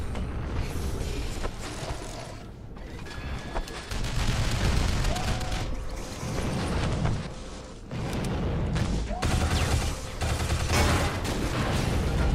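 Gunfire and explosions in the Shadow Complex video game come as dense, continuous bursts of shots and blasts over mechanical clatter, loud and sustained throughout.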